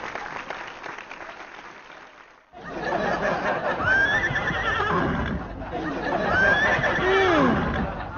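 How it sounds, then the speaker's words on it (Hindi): A horse neighs in loud, shaky whinnies after a quiet opening, the repeated calls rising and falling close by, mixed with a burst of applause-like noise in a comedy setting. "इतनी वैरायटी तो उसकी बकी के पास भी नहीं थी हनहनाने की।"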